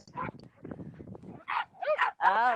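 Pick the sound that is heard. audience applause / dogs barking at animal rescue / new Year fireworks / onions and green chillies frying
dogs barking at animal rescue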